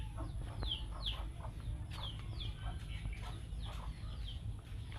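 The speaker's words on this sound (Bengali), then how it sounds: "সব মুরগি গিয়ে বন্ধ ঘাস খাইতেছে।" Village chickens graze on grass and cluck softly in short, scattered calls, a little distant, over a steady low rumble of background noise.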